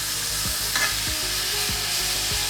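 Chicken souvlaki frying in a pan on a medium stove, a steady loud sizzle with a few soft scraping or turning sounds, no talking.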